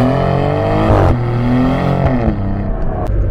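A 2023 Maserati GranTurismo with an all-wheel-drive setup accelerates hard from low speed, its loud engine note climbing in pitch through two rising sweeps, close and alone with no talk.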